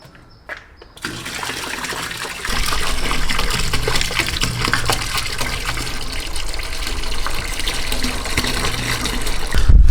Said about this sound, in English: I'm gonna fill this whole thing, almost probably like 3/4 of this gallon of degreaser